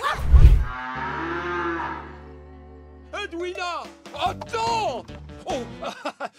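A cartoon cow gives a long, loud, deep moo near the start, followed by excited cartoon voices speaking.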